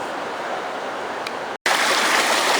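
Fast-flowing Reedy Creek in Victoria rushes in a loud, steady broadband roar of water close by, with a brief dropout in the middle and no talking.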